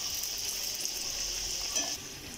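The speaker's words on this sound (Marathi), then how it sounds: "हे तेल आपलं व्यवस्थित तापल्यामुळे आपण हा मंद गॅस करून त्याच्यामध्ये आपल्याला या करंज्या आपण सोडल्या आहेत." Fresh-coconut karanji pastries fry in hot oil in a kadhai over a low flame, with a continuous soft hiss of bubbling oil that eases slightly toward the end.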